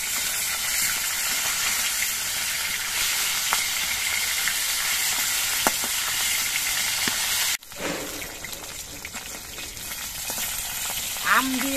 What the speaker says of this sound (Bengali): এই মাছগুলো কিন্তু একটু কড়া করেই ভাজতে হবে।